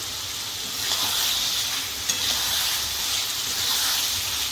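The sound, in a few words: fried potato pieces sizzling in spice masala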